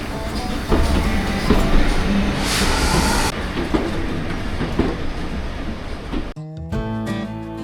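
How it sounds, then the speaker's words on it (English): A South Devon Railway train rumbles and clatters steadily close by into the station with rhythmic wheel noise, then the sound cuts to a quieter interior hum near the end. "Pretty soon our train rolled into the station"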